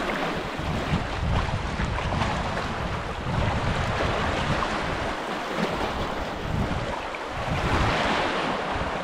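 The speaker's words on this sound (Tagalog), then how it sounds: "Grabe laki ng dagat to na high tide din," Big sea waves at high tide roar and crash continuously close by, with gusting wind buffeting the microphone; no voices.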